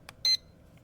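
A single short electronic timer beep, clear and fairly loud against a quiet background, with a faint softer blip before and after it.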